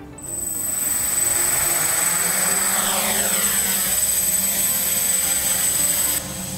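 A multirotor drone fitted with a FeiyuTech FY-901 flight controller hovers nearby, its propellers giving a steady, loud buzzing whine with a high tone throughout, easing slightly at the end.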